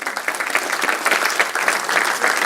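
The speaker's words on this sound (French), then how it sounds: "On peut encore applaudir." An audience at a conference on uranium enrichment applauds, a dense, steady patter of many hands clapping together, fairly loud and continuous for a couple of seconds without a break.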